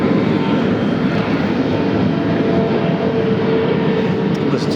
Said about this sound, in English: Listen to the CF-34s now, powering 515 SkyWest as they embark over to Medford, Oregon.